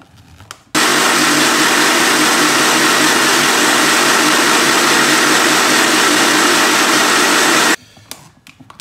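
A blender whirs steadily for about seven seconds, blending grated coconut, salt and rice batter for neer dosa, with a loud, constant motor roar that starts and stops abruptly.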